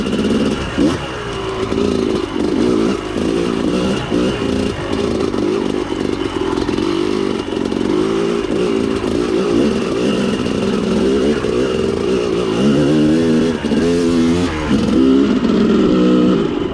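A motorcycle ridden with the throttle opened on a rough section: a loud, continuous engine drone swells and falls while riding, with clatter and wind noise throughout and no talk.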